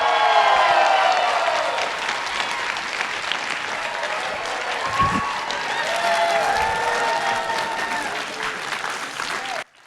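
Convention panel audience applauding celebrity voice actors, loud sustained clapping from a large crowd with some cheering, running unbroken for about ten seconds before cutting off.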